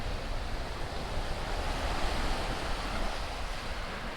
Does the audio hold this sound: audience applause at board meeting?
no